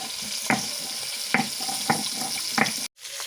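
Fish frying in oil in a kadai, a steady close sizzle with several sharp clicks and stirring knocks spaced through it, no voices.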